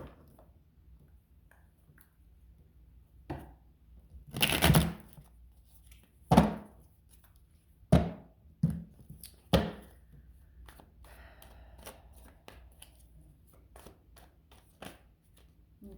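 Intermittent bursts of a Light Seers Tarot deck being shuffled and riffled, a few distinct flurries separated by quiet pauses, close and fairly faint.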